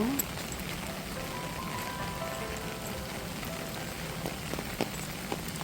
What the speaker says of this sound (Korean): 비가 많이 내리네요.